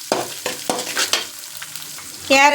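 Egg frying with salt in a pan, stirred with a few rhythmic scraping strokes over a steady close sizzle.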